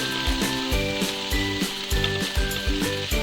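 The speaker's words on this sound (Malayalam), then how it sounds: "നമ്മളൊന്ന് ചെറുതായിട്ട് വഴറ്റണം." Fennel seeds and cinnamon sautéing in hot oil in a pan for kadala (chickpea) curry, a steady loud sizzle with rhythmic stirring scrapes repeating about every half second.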